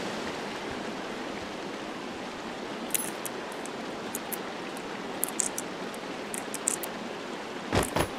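River water flows in the Firewatch video game as a steady broadband rush, close and continuous, with a few brief faint clicks and a short thump near the end.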